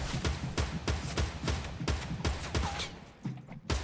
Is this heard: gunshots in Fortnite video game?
yes